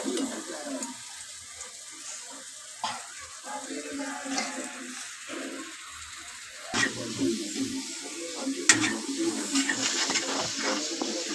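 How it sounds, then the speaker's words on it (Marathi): Ground masala paste fries in hot oil for a cauliflower and potato dish, a steady wet sizzle and crackle with a few sharper spikes, continuing throughout the clip. "वाटण हे पण फ्राय करून घेऊया।"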